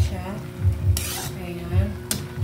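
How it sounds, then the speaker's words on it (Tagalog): A utensil stirs pakbet vegetables in a pan, scraping and clinking against the metal with a faint sizzle underneath and two brief, sharper bursts, all close by and without speech. "Ayan, i-mix lang natin siya."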